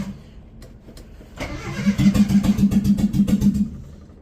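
A Holden TE Gemini engine cranks over briefly and catches, then pulses in a rapid, even string of loud, close revs before settling, with no talk heard.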